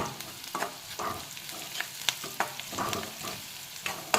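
Fenugreek leaf curry frying in a pan as turmeric and salt are stirred in, a steady sizzle broken by repeated close scraping strokes of the spoon in an even rhythm, with no talking.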